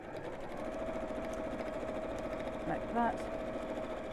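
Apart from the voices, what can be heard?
sewing machine stitching over a hole in fabric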